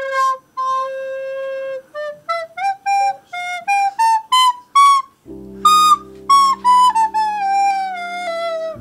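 A shepherd's whistle flute plays a clear melodic line alone, stepping up a scale in short notes, then a second phrase over a low droning tone, bright and close.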